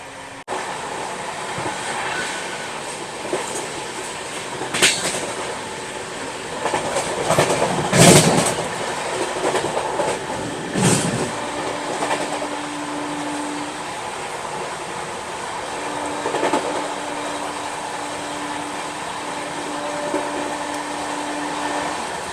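The Ranchi Rajdhani Express runs at speed, a loud continuous rumble heard from inside a coach, with rhythmic clatter, passing whooshes and intermittent tonal whines.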